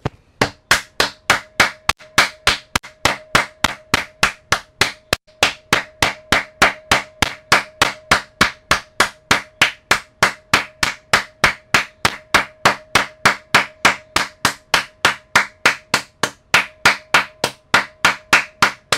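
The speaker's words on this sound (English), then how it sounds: "It hurts to clap." Hands clap in a fast, steady rhythm of about three sharp claps per second, loud and close, continuing without a break for a long stretch.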